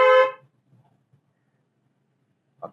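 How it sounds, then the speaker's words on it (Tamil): A car horn gives one loud, short honk at the start, sounded during a driving lesson on a road with speed bumps. Quiet faint road noise follows, with a brief sharper sound near the end. "ஹார்ன் அடிங்க."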